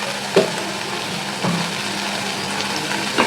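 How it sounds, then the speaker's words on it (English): Masala sautéing in a hot pan for a Bengali rui fish curry, a steady low sizzle broken by a few sharp stirring scrapes and clatters spaced apart, close and alone. "I have to saute the masala"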